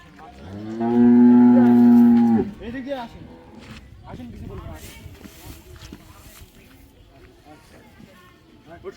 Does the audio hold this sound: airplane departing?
no